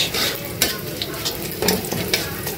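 Cumin, chopped garlic and dried chili sizzle in hot mustard oil in a pan, a continuous loud frying hiss broken by occasional scraping stirs.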